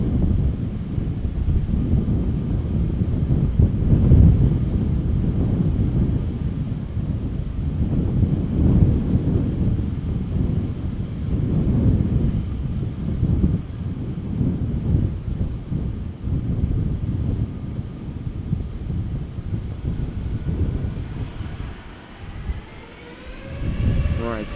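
SAS Airbus A320neo departing Amsterdam Schiphol Airport, a broad, steady engine roar mixed with wind buffeting, holding loud throughout, with a rising whine as it climbs away near the end.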